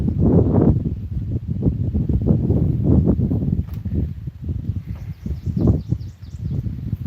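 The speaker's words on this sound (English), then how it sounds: "Too windy for me to be out on the lake." Gusty wind buffets the microphone beside an Ozark lake, a loud, rumbling low roar that surges and dips in uneven bursts for several seconds.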